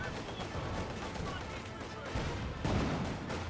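Battle in the video game Company of Heroes 2: dense, rapid small-arms fire with bursts and thumping impacts, a louder blast near the end, all under a commentator's talk.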